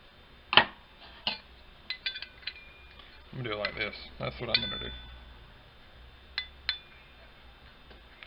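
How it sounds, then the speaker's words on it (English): Metal parts of a Hobby Park RC stand clink and clank sharply during assembly, several scattered hits and a short rattling burst, while someone talks quietly over the work. "Sorry about the clinking and clanging, but this thing's metal, so this is part of it, I guess."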